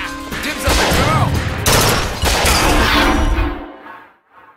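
A burst of rapid gunfire rings out in the Bioshock Infinite shooter game, dense overlapping shots with shouting voices mixed in, then cutting off abruptly and trailing into near silence.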